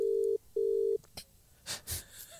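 Telephone tones for a live on-air radio prank call: two long steady beeps, then quieter clicks and a few brief noisy bursts on the line, with no talking.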